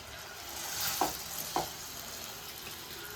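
Eggplant sautéed with masala in oil in a pan, a steady soft sizzle broken by two distinct scraping stirs about half a second apart, close and fairly quiet with no voices.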